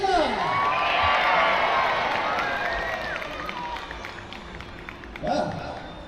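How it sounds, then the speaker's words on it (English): An outdoor crowd at the Peasholm naval battle show in Scarborough, England, cheers and whoops at a moderate distance, a broad wash of voices under continuous speech, with whistles and engine-like tones mixed in. "so let's give them a cheer!"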